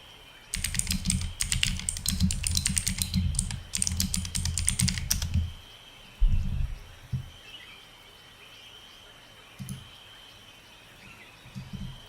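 Rapid typing on a computer keyboard, dense and close for about five seconds, then a few scattered keystrokes over a quiet background.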